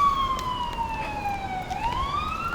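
A siren on an ambulance or fire truck wails along a city street in Kensington Market, a steady falling tone that then sweeps upward, loud and close over constant traffic rumble.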